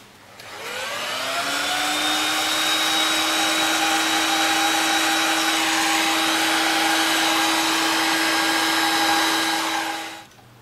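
A Huanyang variable frequency drive's cooling fan spins up, then holds a steady loud whirring hum with a clear tonal whine for about nine seconds before winding down, with no voices.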